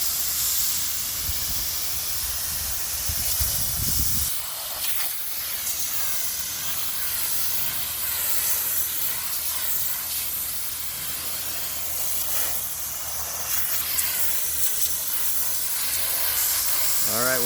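Aqua Comb water spray cleaning a pool filter cartridge outdoors, a steady loud hiss of pressurized water with a rougher splashing burst at the start and shifting spray texture throughout.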